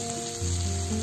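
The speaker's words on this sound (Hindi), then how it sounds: "इसे गलने तक पकाएंगे।" Tomatoes cooking down in a pan for Punjabi-style dal tadka give a steady, close sizzle and low bubbling simmer, continuous across the short moment with no voices.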